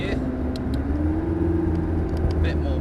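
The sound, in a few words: McLaren MP4-12C braking and downshifting on track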